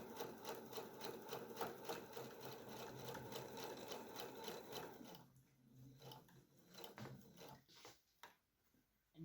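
A sewing machine stitches across a quilt block with pins left in, its rapid steady mechanical clatter running for several seconds before stopping into quieter fabric handling.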